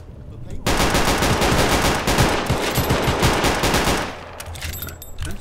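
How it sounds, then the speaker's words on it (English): A sustained burst of fully automatic fire from an STG-44 German assault rifle in a Roblox shooter, loud and close, rattling steadily for several seconds before cutting off, with faint game sounds after. "let's see what this German assault rifle is like"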